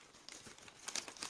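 Plastic packaging bag around a potted orchid crinkling close up, quiet irregular rustles that sharpen into a few brighter crackles toward the end.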